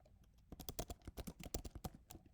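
Rapid keystrokes on a computer keyboard, a quiet start followed by a quick irregular burst of clicks lasting about two seconds, close and alone with no voices.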